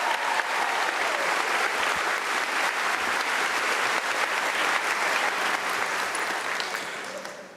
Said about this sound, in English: Can we get another big round of applause for me and my class officers